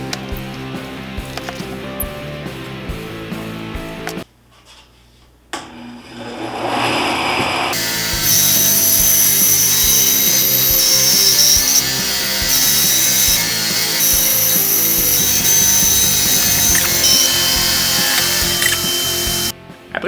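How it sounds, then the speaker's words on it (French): A band saw cuts wooden logs for Mölkky pins, its motor whirring steadily, a short quiet gap as it stops and restarts, then a loud, sustained high whine and rasp as the blade bites through the wood. "on est prêt pour la scie à ruban"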